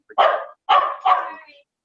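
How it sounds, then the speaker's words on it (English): Three sharp barks from a dog in a home, close and loud, with short gaps between them and quiet in between. "and they're gonna bark"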